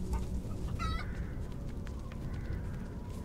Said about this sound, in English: There are the chickens.